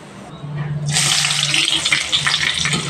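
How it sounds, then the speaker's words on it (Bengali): Chopped onions are dropped into hot oil with dried red chillies, carom and mustard seeds while cooking kundri. A loud, steady sizzle bursts in after about a second and continues without a break. "এগুলো দেওয়ার পর এখানে কুচানো পেঁয়াজ দিয়ে দেবো"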